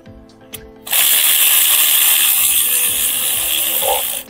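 A tool undoing 7 mm bolts on a Ford Transit Connect during a cambelt and water pump job, heard as a couple of faint clicks and then a loud, steady high-pitched whirring rattle that runs for about three seconds before stopping.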